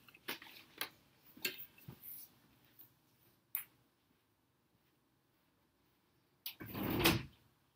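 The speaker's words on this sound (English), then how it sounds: "I'm just going to close the door, guys, because there's some noise out there" A door is shut indoors to block outside noise, with a few soft knocks and shuffles, then a louder closing thud and rattle near the end, close and alone.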